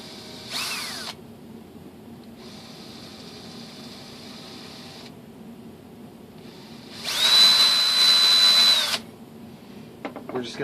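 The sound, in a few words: power drill drilling screw holes in glider control surface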